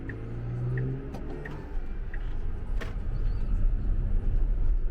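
A car moving through dense traffic on Ukrainian roads gives a steady interior rumble that grows slightly louder, with faint passing-vehicle whooshes and a few brief clicks.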